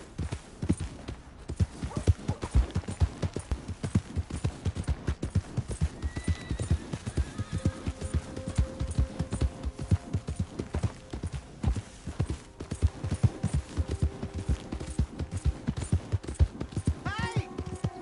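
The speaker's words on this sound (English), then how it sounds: "Hey! My horse!" Horse hooves clip-clop steadily in a PS4 video game, a continuous rhythmic trot in the foreground with faint background tones and occasional voices.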